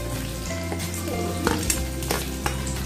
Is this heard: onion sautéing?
yes